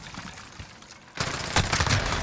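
Gunfire in a video game bursts out as a loud fusillade of close shots after a quieter start, continuing in rapid clustered volleys.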